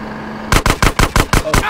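Rapid burst of automatic gunfire in GTA San Andreas, about seven sharp, evenly spaced shots in quick succession after a brief quiet hum, loud and close with no talking.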